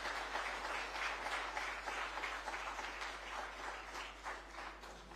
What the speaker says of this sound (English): A huge round of applause for the Minister for that very energizing and motivating address